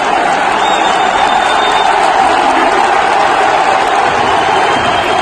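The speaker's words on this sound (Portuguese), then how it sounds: "A torcida gritando, aplaudindo" Stadium crowd in the video game FIFA 22 cheering and applauding loudly and continuously after a 5-0 cup match, a dense, steady roar of clapping and shouts with no gaps.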